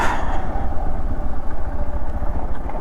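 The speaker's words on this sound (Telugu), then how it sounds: "ఇంజన్కి హీట్ చేసుకుందాం" A motorcycle engine warming up, running steadily at idle on a mountain ride between Dirang and Tawang, a continuous low rumble with a rapid, pulsing rhythm, close and fairly loud throughout.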